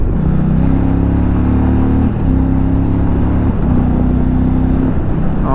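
A 2020 Indian Challenger Dark Horse motorcycle on a test ride, its engine droning loud and close with steady low tones that climb in pitch through several rising passes, with brief dips between them as it is ridden.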